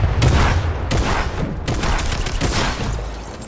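Rapid bursts of gunfire in a Fortnite match, loud and dense, with several clustered volleys cracking out across the whole stretch and little letup between shots.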